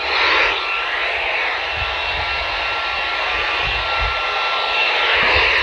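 Steady broadband hiss of a Baofeng UV-5R dual-band handheld radio receiving with its squelch opened, a continuous even static rush that stays level and close throughout with no voice over it.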